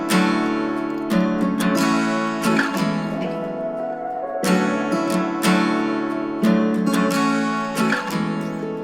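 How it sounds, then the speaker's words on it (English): A looping guitar melody run through an effects chain, with bright plucked notes and dense washed-out layers that swell and repeat roughly every few seconds, steady and full with no talking. "Those are the guitars that make up the loop."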